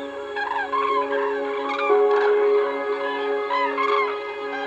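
Cranes on the Baltic coast call in a dense, overlapping chorus of loud bugling and honking notes, steady throughout with a few sharper cries rising above the flock.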